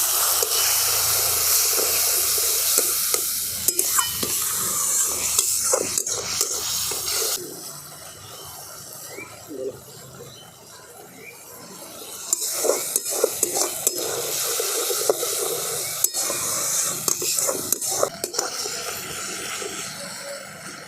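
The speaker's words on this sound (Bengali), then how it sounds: "বাটিটাকে সামান্য একটু ধুয়ে আমি জলটা দিয়ে ভালো করে কষিয়ে নেব" Ground spice paste sautéing with a splash of water in a pan for a Bengali fish curry, with a steady close hiss and sizzle under repeated scraping stirs that fade midway and then return, and no talk.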